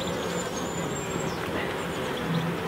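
Honeybees buzz steadily around a nucleus hive box in a UK apiary, a continuous close drone with a few individual bees whining past, and no talking.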